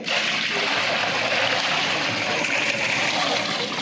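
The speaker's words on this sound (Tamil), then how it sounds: "மொத்தம் உலக்கி மூணு மூணு குடம் தண்ணி ஊற்றிருக்கோம்" Water is poured steadily into a large pot of biryani, making a continuous loud rushing and splashing sound with no pauses and no talking.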